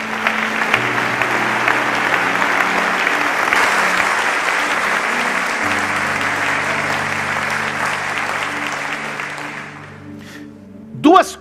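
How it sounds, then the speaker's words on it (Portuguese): A church congregation breaks into sustained, dense clapping that fills the hall for about ten seconds before fading, with a preacher speaking over it and resuming alone at the end. "Alguém pode dar um aplauso ao Senhor nesse lugar?"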